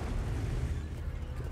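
Tank cannon fire from the T57 in a tank battle video game: a dense, sustained low boom with a rumbling body that fills the whole moment, loud and steady with no talk over it.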